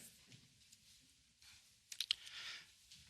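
A couple of sharp computer mouse clicks land close together near the middle, with a soft hiss before and after, while someone opens a test on a study prep platform.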